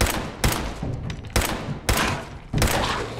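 Repeated gunfire in Fallout 4, with four or five loud, heavy bursts of shots spaced about a second apart. Short gaps of ambient game noise fall between the bursts, and nobody speaks.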